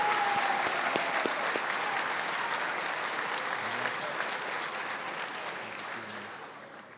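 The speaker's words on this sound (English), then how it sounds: "So big, huge round of applause to the Unified Track athletes." Applause for Unified Track athletes at a high school varsity sports celebration, a dense crowd clapping steadily in a large room before slowly tapering off over several seconds.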